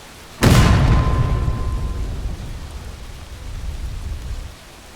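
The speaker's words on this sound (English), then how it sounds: "That is artillery." A single loud cannon shot in the Civil War game War of Rights booms sharply, then rolls into a long rumbling decay that fades over several seconds.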